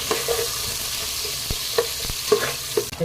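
Onions sautéing in a pan while being stirred with a spoon for chicken biryani: a soft steady sizzle broken by several sharp scraping strokes and clacks against the pan, close and fairly quiet, no talking.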